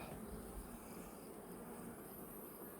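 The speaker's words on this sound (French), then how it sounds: "Alors ça, c'est des abeilles buckfast" Buckfast honeybees hum around an open hive in June, a faint, steady buzzing drone that carries on evenly without pauses or voices.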